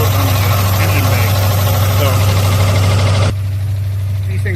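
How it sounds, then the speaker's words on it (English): A 3-liter timing-belt car engine idles with a misfire, a loud, steady rumbling drone with an uneven shake, heard up close and continuous before dropping slightly in level near the end. "But it does appear to have a misfire. It shakes a bit too."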